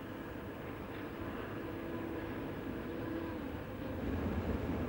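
Specially modified pressure-flow rail wagons carrying pulverized fuel ash from power stations roll along, giving a steady low rumble and drone of moving railway wagons at moderate distance with no voices.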